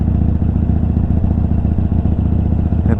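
A Harley-Davidson 48 motorcycle idling nearby, a loud, steady, lumpy low rumble with rapid even pulsing and faint mechanical clatter throughout.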